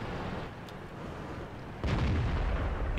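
Artillery fire in the tank game World of Tanks: after a stretch of low rumbling, one heavy boom lands partway through and rolls on as a sustained roar.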